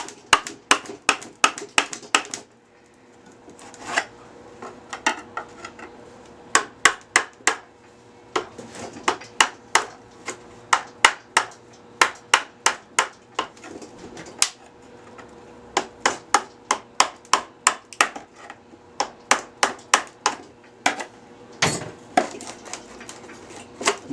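An unwaxed fiberglass part cracks loose from its mold in a workshop, giving sharp, loud snapping cracks repeated in quick irregular bursts and clusters, close by, with no talk over them.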